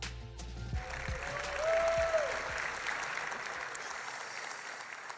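An audience at a ministers' forum session applauds to welcome speaker Dave Ferguson, with steady, full clapping that swells slightly in the middle and holds for about five seconds.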